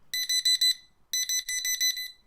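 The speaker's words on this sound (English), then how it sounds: "The alarm should be going off pretty soon." A Hansang large digital wall clock alarm going off, two bursts of rapid, piercing electronic beeps in quick clusters separated by a short silence, clear and fairly close with nothing else heard.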